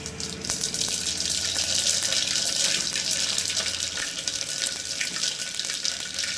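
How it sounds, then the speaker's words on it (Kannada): Mustard seeds crackle and splutter in hot oil while rasam is being cooked, making a dense, steady hiss with fine popping that holds at an even, close level throughout and has no speech. "ಆ ಸಾಸಿವೆ ಸೌಂಡ್ ಎಷ್ಟು ಚೆನ್ನಾಗಿದೆಯಲ್ಲ"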